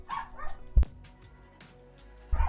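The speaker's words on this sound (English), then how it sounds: "my dogs are barking" Pet dogs bark a few times, some sharp yips standing out and one loud bark at the end, heard close by in a quiet room.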